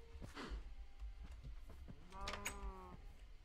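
Cows mooing in a modded Minecraft survival game, a drawn-out low bovine call near the end after scattered clicks and faint game noises, with no talking.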